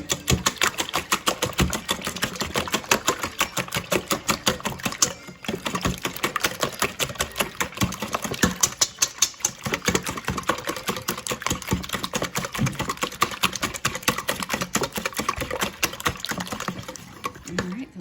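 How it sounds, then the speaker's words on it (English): Twelve eggs being whisked in a bowl, a rapid, steady clatter of strokes running continuously with a brief pause partway through. "now we're gonna whisk it up. Make sure all the yolks are broken."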